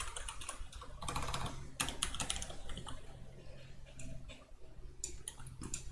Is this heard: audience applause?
no